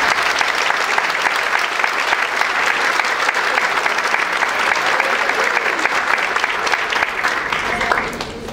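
An audience at a seminar on workplace moral harassment applauds, with steady, loud, dense clapping throughout that eases slightly at the very end.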